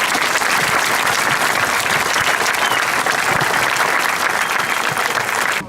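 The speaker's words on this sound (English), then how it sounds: "please join me in a well-earned round of applause for our drill instructors and their families that support them" Audience at a 2018 Marine Corps recruit graduation applauding the drill instructors and their families, a dense, loud, sustained wall of clapping from a large crowd that holds steady before cutting off.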